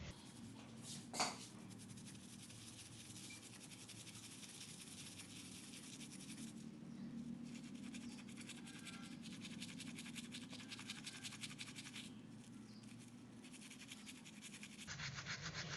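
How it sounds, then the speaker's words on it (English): A toothbrush loaded with white toothpaste scrubs gold jewellery in a steady, faint, continuous bristly scratching, with one brief sharper knock near the start. "Take a toothbrush, with the help of this, keep rubbing it."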